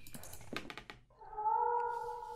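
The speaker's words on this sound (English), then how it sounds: "Oh god, that cat is gonna drive me nuts." In The Letter video game, a cat lets out a drawn-out, clear meow after a few quick clicks and taps, heard alone without talk.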